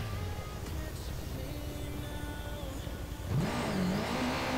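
Small motorbike engine revving in the video game Watch Dogs 2, a steady idle hum followed by a rising rev that climbs near the end, close and moderately loud with no talking.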